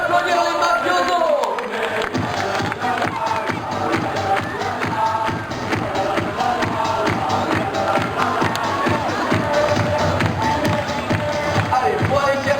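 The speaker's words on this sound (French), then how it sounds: "On peut les applaudir, les Mafiosos." Crowd at a toro piscine event in an arena breaking into applause, a dense, sustained clatter of clapping and cheering after a brief quieter start, with an announcer's voice over it.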